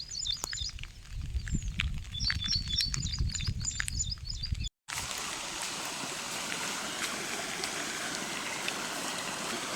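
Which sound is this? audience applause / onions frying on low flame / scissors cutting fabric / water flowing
water flowing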